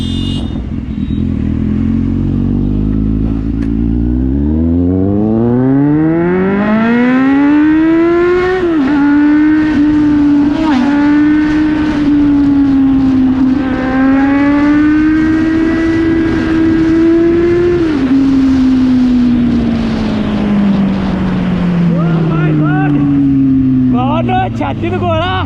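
Kawasaki Z900 motorcycle engine revving up and accelerating hard, a loud rising roar with climbing pitch that holds steady at high revs before easing off, heard close over road noise with faint background voices.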